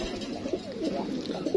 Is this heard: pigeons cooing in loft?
yes